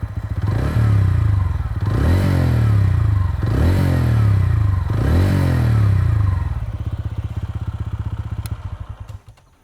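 A TVS Ronin 225 motorcycle engine, close and loud, is revved repeatedly in four strong surges with falling pitch between each, then settles back to a rough, pulsing idle that fades out.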